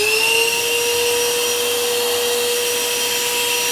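A Gaocheng professional wet and dry vacuum cleaner runs switched on, a loud steady motor whine with a sustained high-pitched tonal hum and airy rush, alone and unbroken throughout.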